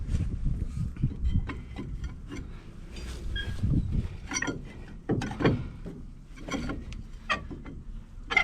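Bolts threaded back into a brake caliper over the rotor after a brake change, heard as a scattered series of close metallic clicks, ratcheting and clanks at moderate level with no talking.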